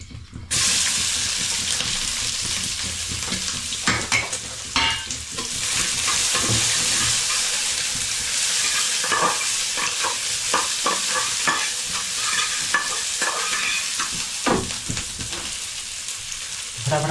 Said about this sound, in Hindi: जीरा हो गया, अब डालूंगा इसमें हरी मिर्च और अपना प्याज।